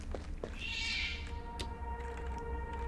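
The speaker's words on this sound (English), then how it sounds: "Was that a shriek? It sounded like a cat." A short cat-like shriek rises over a low droning ambience in the video game Viviette, a single faint, high wail lasting about a second.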